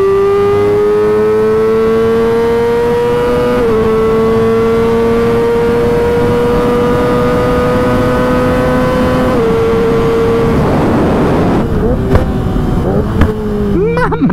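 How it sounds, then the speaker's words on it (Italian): A 2006 Yamaha R6 motorcycle accelerating hard to high speed during a test ride; a loud, close, high-pitched engine whine climbs through gears with brief shift dips, then turns to rushing wind buffeting. "Pronti per vedere questa R6 2006 come se la cava alle alte velocità."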